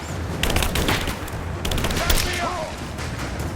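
Rapid gunshots in the Tomb Raider action game, repeated sharp cracks in quick bursts ringing over game background noise, with a voice talking throughout.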